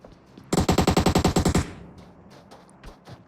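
Rapid burst of about a dozen loud, evenly spaced gunshots in PUBG Mobile, credited to an AWM rifle, ending abruptly and followed by faint in-game clatter.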